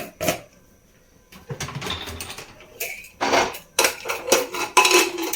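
Metal clanks and clatters as a heavy pressure cooker lid is handled and fitted onto the cooker, several sharp knocks and scrapes in quick bursts.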